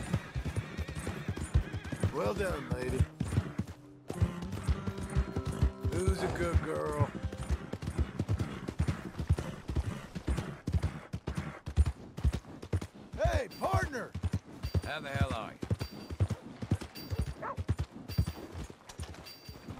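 Horse hooves clip-clop steadily with repeated neighs and whinnies in the video game Red Dead Redemption 2, close and fairly loud, with a voice talking over parts of it.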